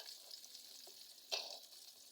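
Eggplant slices fry in a pan with a faint, steady sizzle in a village home kitchen, broken by one brief, sharper stirring clatter partway through.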